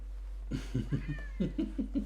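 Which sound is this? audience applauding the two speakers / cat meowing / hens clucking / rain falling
cat meowing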